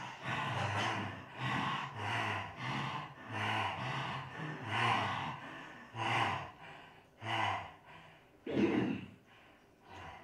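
Yogic breathing exercise, kalika shwasan: a series of about ten rhythmic, forceful breaths through the mouth, heard close and alone, each a hissing gasp followed by a short pause.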